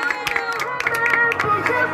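Guests applaud at a daughter's birthday party in Guarulhos, a brief burst of scattered, close clapping over music and the murmur of a crowd.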